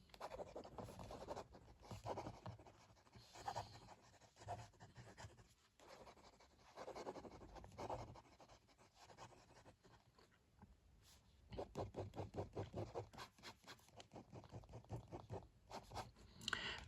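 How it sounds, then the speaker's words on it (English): A titanium Titaner fountain pen scratches quickly across paper, with faint, close, continuous strokes that come in bursts and short pauses, the nib's scratchy rhythm rising and falling with each written word. "Let's do some quick writing."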